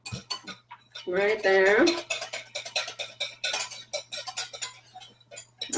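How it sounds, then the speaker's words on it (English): A metal whisk clinks and scrapes rhythmically against a bowl while mixing seasoned ingredients, close and busy, with a brief sustained vocal sound early on and a few short spoken words mixed in. "I'm going to get my whisk going again"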